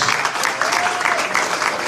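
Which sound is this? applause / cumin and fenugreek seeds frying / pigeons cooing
applause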